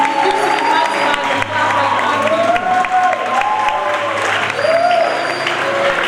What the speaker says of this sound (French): acclamez quand même comme il faut